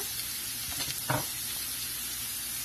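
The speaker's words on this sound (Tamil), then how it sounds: "இதோட ரெண்டு நிமிஷம் வணக்கிக்கோங்க லைட்டாக பொன்னிறம் ஆகிற வரைக்கும் வணக்கிக்கணும்" A steady, even sizzle of onions sautéing in a pan, with a few soft scraping stirs partway through.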